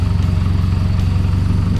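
Nissan S14 drift car with a forged bottom end and mild cams idling roughly, a loud, close, steady low engine rumble with an uneven pulsing beat and no talk over it.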